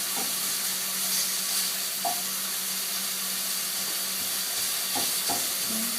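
Mapo tofu stir-fried in a pan, a continuous close sizzle with intermittent scraping stirs and clinks of a utensil against the pan.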